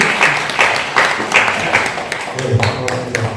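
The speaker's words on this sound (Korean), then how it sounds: "다 같이 박수로 환영해 주시면 감사하겠습니다" A seated audience applauds to welcome a guest speaker at an indoor lecture, a steady wash of many hands clapping that fades into quieter scattered sounds near the end.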